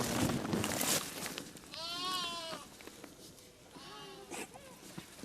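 Lambs give two clear, wavering bleats a couple of seconds apart, set against rustling farmyard noise that is busier at the start.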